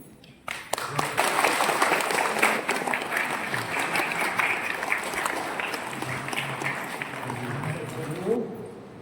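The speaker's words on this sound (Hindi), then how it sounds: "तो ताली बजा देंगे ना" Wedding guests in a church break into sustained applause, a steady crowd clatter that holds for several seconds before fading, with a voice faintly audible near the end.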